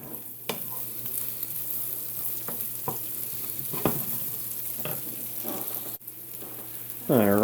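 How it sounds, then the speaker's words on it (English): Onions fry in a pan for a bacon carbonara, giving a steady low sizzle with scattered utensil clicks and stirring scrapes, and a sharper clatter at the very end. "onions are starting to sweat out just a little bit."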